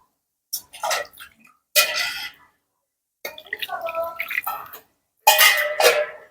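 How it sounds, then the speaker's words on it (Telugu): Three glasses of water poured into sago (sabudana) for summer papad, splashing in separate short bursts with pauses between, close and fairly loud. "దీంట్లో నేను ఒక గ్లాసు, ఒకటి కాదండి, ఒక 3 గ్లాసులు నీళ్లు వేసుకుంటున్నాను"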